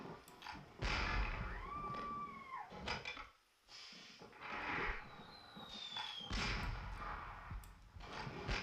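Cannons fire in a DOS adventure game running in ScummVM, giving several heavy booms over busy game music and effects.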